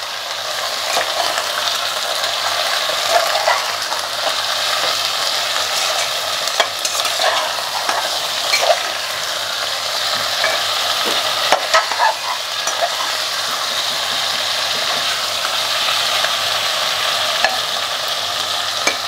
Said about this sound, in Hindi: मटन डालने के बाद हम 3 से 4 मिनट बीच बीच में चलाते हुए मटन को फ्राई करेंगे